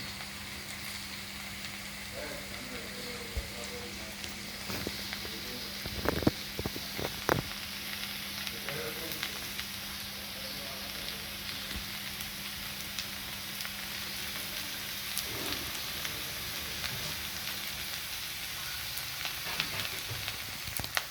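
Okra frying uncovered in an open pan, a continuous soft sizzle with occasional stirring clatters and a faint steady hum beneath, heard alone at moderate level.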